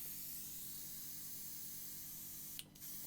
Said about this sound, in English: So I'm just looking at the spray off the tip of my needle,